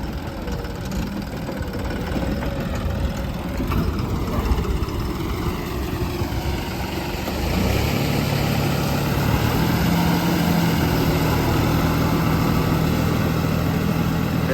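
A tractor engine drones steadily while pulling a 9-foot Shaktiman rotavator puddling a wet field, its low rumble deepening and growing heavier partway through, with no talking.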